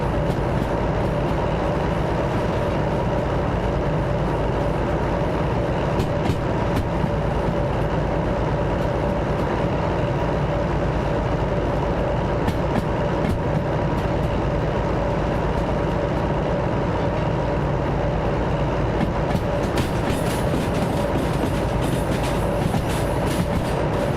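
A European locomotive in the Derail Valley train simulator, rumbling steadily with a constant engine drone and faint rail clatter, loud and unbroken throughout with no talk.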